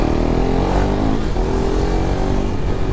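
A KTM RC 390 motorcycle engine pulls hard under acceleration, a loud, steady, close buzzing roar with rising pitch and constant wind noise throughout.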